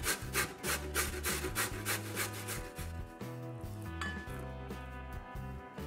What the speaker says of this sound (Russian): Дальше на мелкой терке натираем морковь.